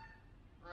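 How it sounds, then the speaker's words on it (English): Geese honk in the background outdoors, faint and distant, in one short moment that grows a little louder at the end. "Got geese in the background"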